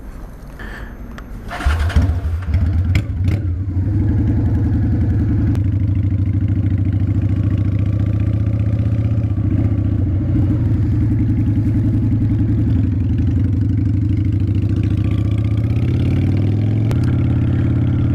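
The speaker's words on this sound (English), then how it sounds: "So, yep, this Shadow 750" A Honda Shadow 750 motorcycle engine starts with a sharp burst, then settles into a steady, loud, low idle rumble that continues throughout.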